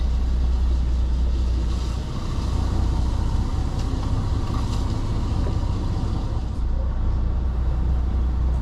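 A vehicle pulls a trailer forward on a rural Spanish track, a steady close engine rumble droning low and unbroken with a brief dip partway, alone without talk.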